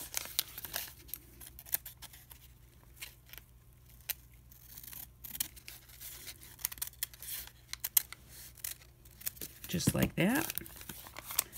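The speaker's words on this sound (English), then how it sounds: "And then we're going to just cut this off just so that we don't have that bulk." Scissors snip paper while a journal flat bag with a gusset is trimmed, quiet sharp cuts and crinkles scattered across the clip, with someone speaking softly at the end and a louder rustle near the close.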